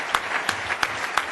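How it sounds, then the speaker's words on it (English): Audience at a Rotary luncheon applauding steadily, a dense wash of clapping with a few sharper claps standing out, moderately close and without speech. "let's give a warm welcome, or a warm round of applause, I should say, to both the candidates, Terry Bergeson, Randy Dorn."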